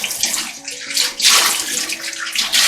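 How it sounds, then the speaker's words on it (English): Soapy water pouring and splashing into a container during clock cleaning, a loud, close, continuous gushing stream with brief surges and a few faint tonal clinks, no talking. "I'm going to put some soapy water in here."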